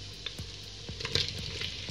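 Chopped onion hitting smoked bacon in a hot pan for Hungarian bograch goulash, sizzling close by with a few sharp crackles and pops over a steady frying hiss.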